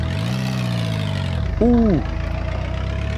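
A small forklift engine in a VR video game idles with a buzzy, chainsaw-like drone, close and steady, under a voice; a brief exclamation breaks in midway before the motor hum carries on.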